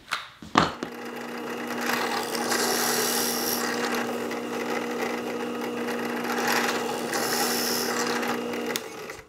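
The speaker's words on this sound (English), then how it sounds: "So I'll need to bring this back to the drill press." A drill press bores countersink holes in a wooden curved table top. A sharp knock comes first, then the bit whines and grinds steadily for several seconds, rising twice in a harsher cutting rasp. There is no talk.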